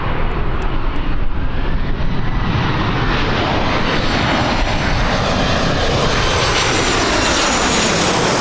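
A passenger aircraft arriving at Birmingham airport roars steadily and loudly with engine noise, a broad sustained rumble that holds throughout, with no one talking.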